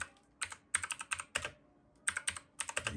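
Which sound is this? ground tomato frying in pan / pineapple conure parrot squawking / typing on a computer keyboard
typing on a computer keyboard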